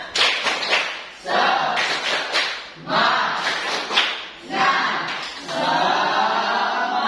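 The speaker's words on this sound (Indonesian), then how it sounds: "Kita kasih tepuk semangat dulu, ya." A class of eighth-grade students in a maths lesson performs a rhythmic spirit clap, bursts of sharp, loud clapping in patterned groups separated by short pauses, with some voices mixed in.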